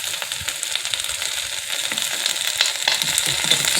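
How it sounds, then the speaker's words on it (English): Cabbage stir-fried in a hot pan with a little spice sizzles steadily and loudly, a constant crackling hiss with small pops and stirring scrapes throughout, no voices. "So look, you hear it sizzling and cooking."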